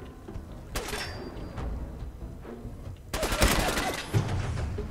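Raider gunfire in Fallout 4 erupts in bursts of shots, with a louder, denser volley near the end over steady game ambience.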